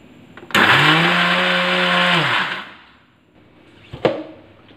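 A kitchen mixer jar whirs loudly for about two seconds, grinding sugar and cardamom into powder, then winds down, followed by a brief clatter of the jar.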